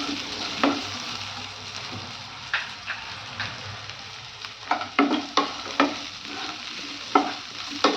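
Curry leaves and onions frying in a pan for veg donne biryani: a continuous sizzle, close and fairly loud, broken by repeated scraping stirs of a spoon that come faster toward the end, with no talking.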